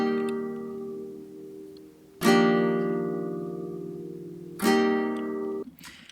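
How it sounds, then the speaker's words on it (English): Two bright guitar strums ring out a couple of seconds apart, each with a sharp attack and a long, slowly fading sustain. "I chose to use some guitar strumming that sounds like this."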